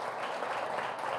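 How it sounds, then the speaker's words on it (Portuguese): A church congregation applauds during a worship service, a steady, even wash of many hands clapping together, moderately loud and continuous from start to finish. "Queria que a igreja desse um aplauso a Jesus pelos visitantes."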